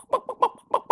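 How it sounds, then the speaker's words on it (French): Small hens in a backyard permaculture garden coop cluck in short, rhythmic bursts, about five close, fairly loud calls within a second, with no talk over them. "Donc là, on a le côté avec les petites poupoules"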